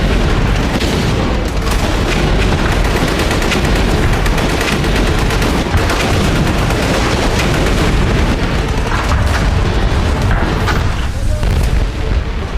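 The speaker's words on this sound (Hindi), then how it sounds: "मैदान में टैंकों और तोपों के साथ युद्धाभ्यास" Tanks and artillery pound away during a military exercise in a dense, continuous barrage of loud booms and blasts with no clear gaps, dominating the whole stretch.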